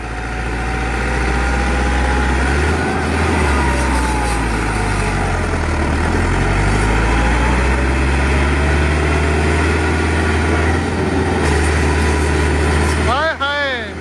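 A 385 tractor engine labours under a heavy load test of 1800 maund, a loud, close, continuous low drone whose pitch rises and falls with strain, ending in sharp sweeping tones.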